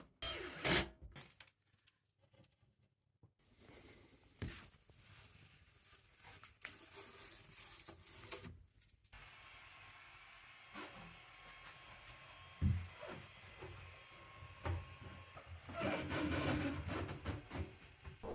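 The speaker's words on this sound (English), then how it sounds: "my loud Creality Ender 3 needed a bit of soundproofing" A Creality Ender 3 3D printer runs with irregular stepper-motor whirs and buzzing, a steady mechanical hum through the middle, and louder bursts of movement near the end, with clicks and knocks in between.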